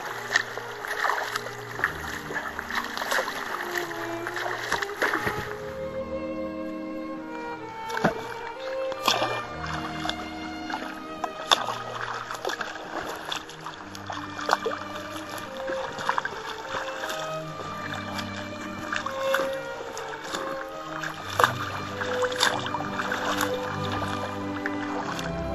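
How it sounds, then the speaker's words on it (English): A sea kayak paddles along the water, with steady splashes and watery strokes repeating over a constant background hum, close and fairly even throughout. "I've only been paddling 20 minutes, so that's been okay."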